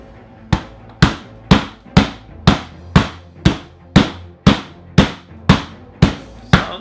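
A heavy hammer strikes a hard plastic toy dinosaur about a dozen times in a steady rhythm, each loud thud ringing briefly before the next blow.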